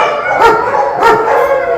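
Dogs bark at a city dog shelter in Yakutsk, two louder bursts rising out of a steady din of many kennel dogs yapping and whining nearby.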